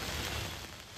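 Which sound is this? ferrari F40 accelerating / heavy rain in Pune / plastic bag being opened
heavy rain in Pune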